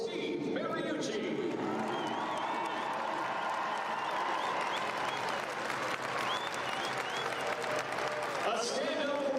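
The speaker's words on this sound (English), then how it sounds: "Please give a warm round of applause for Steve Mariucci." A stadium crowd at a Wildcats college football halftime ceremony applauds Steve Mariucci, a broad, sustained wash of clapping and cheering from many people, with voices mixed in throughout.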